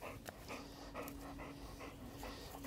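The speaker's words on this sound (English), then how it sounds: "we're gonna have a little tantrum, because we're a Newfie puppy, and here's our tantrum" A Newfoundland puppy throws a tantrum while being stacked for a dog show exam. It pants and snorts in quick rhythmic bursts, faint but close.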